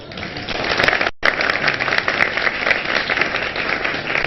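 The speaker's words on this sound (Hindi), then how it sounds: "उनके लिए तालियां" Studio audience applause on a morning TV show greeting guest Hakeem Basit: dense, loud clapping that breaks off briefly near the start, then continues steadily.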